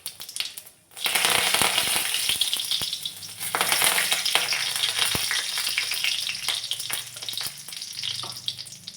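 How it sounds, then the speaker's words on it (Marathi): Cumin seeds and curry leaves hit hot oil in a kadhai and crackle loudly, a sharp burst of sputtering and popping that keeps on close by, with no voices. "तेल तापल्यानंतर त्यामध्ये जिरे आणि कढीपत्ता घातला"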